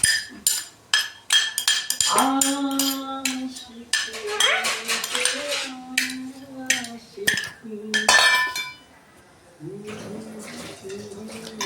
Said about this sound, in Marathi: अरे भाजीमध्ये वाटी पडली तुझी